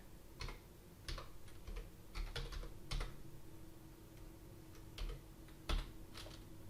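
Keys clatter on a computer keyboard in short irregular bursts of clicks while a command is entered in AWS CloudShell, close and fairly quiet over a faint steady hum, with no talk.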